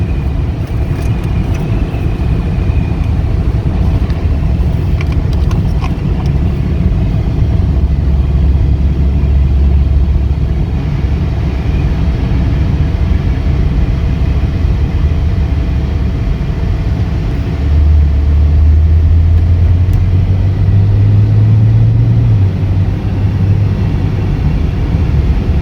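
A 2017 Maserati Ghibli accelerates on a road test drive, its engine a steady low rumble with tire and road noise, swelling louder and rising in pitch near the end as it pulls harder.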